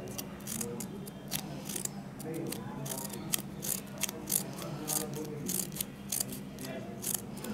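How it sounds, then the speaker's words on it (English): Scissors snipping thin cuts into paper for a paper sculpture leaf, a rapid close series of small crisp clicks and snips running throughout at a steady, patient pace. "Patiently make the cuts."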